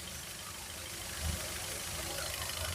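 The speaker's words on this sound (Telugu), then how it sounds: "ఇదిగోండి ఇంజిన్ సౌండ్ చూడండి" A 2016 Hyundai Creta S petrol engine idles steadily, a faint, even hum with a slight low thump around midway and no other sounds.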